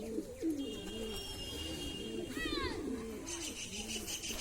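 An all-black pigeon coos in low, rolling phrases that repeat steadily at close range, over continuous background noise, with a few brief high chirps from other birds.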